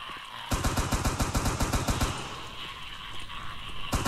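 Rapid automatic gunfire in a video game, a fast regular burst of close shots lasting a couple of seconds, then a lull and another shot at the end.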